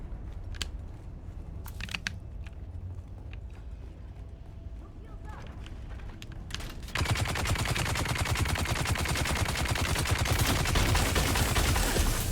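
Sustained automatic gunfire in Dune: Awakening, scattered shots at first, then a dense continuous burst of rapid fire in the second half, loud and close, with a voice talking earlier.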